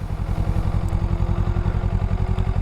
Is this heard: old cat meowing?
no